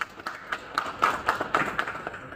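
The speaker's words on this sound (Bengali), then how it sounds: "একটু জোরে হাততালি দাও" A small audience at an exhibition event clapping in a quick, even rhythm, fairly soft and somewhat distant, with no voices.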